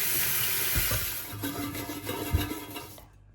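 Onions are rinsed under a running kitchen tap into a sink, a steady close splashing flow with brief clunks of handling before the water shuts off and falls silent.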